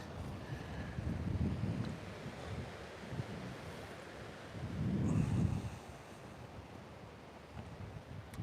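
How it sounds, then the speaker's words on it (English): San Diego oceanfront with a breeze off the water and surf, faint and distant, with two slow swells of low rumbling wash and light wind buffeting the microphone in between. "Feel that ocean breeze."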